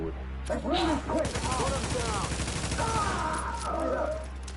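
Bursts of gunfire from the video game The Division, rapid shots crackling under a voice talking throughout, with a steady low hum beneath the fight.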